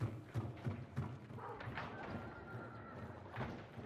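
A startled horse in Hunt: Showdown whinnies and gallops off, with a few quick, faint hoofbeats followed by a drawn-out neigh at a distance.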